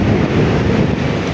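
Loud, blustery wind buffeting the microphone in Baguio during dance practice, a dense rumbling roar throughout the short stretch.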